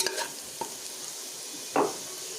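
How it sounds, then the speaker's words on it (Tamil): Onions sautéing in a pan for mutton gravy, a quiet sizzle broken by a few sharp clinks and scrapes of a stirring spoon, the loudest scrape near the end, close by and without voices. "நல்லா வந்து வெங்காயம் வதங்குது பாருங்கள் ஸோ நல்லா வந்து கைவிடாமல் அப்படியே கிண்டி விட்டுக்கலாம்"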